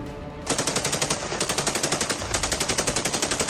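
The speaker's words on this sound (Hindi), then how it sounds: "मैदानी जंग में दोनों तरफ से भयानक गोलीबारी हो रही है।" Heavy machine-gun fire on a Russia-Ukraine battlefield, a loud continuous burst of rapid rhythmic shots starting after a brief moment and running without pause.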